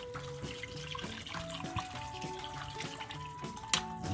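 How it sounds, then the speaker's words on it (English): Water pours steadily into a pot with a soft, continuous trickling and splashing, the pitch shifting as it fills; quiet, no talking. "And then I'm gonna add some more bottled water."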